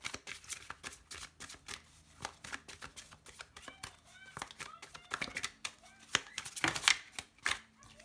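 Oracle cards are cut and shuffled by hand at close range, with a string of crisp riffles and soft slaps in quick irregular bursts, with quiet breathy sounds in the background.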